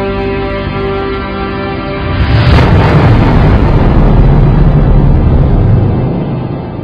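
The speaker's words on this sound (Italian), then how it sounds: "Una devastante esplosione nucleare, causata dalla morte di qualche stella a noi vicina" A documentary sound effect of a nuclear explosion from a dying star: a steady tone gives way to a loud, sustained roaring rumble with a bright burst near its onset, then holds as a heavy wash of noise.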